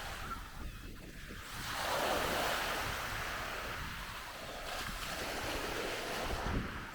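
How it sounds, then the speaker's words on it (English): Big ocean waves and surf roll in along a beach as a hurricane approaches, a steady broad roar with wind buffeting the microphone, swelling louder after the second second and holding, with no talk. "All those big waves"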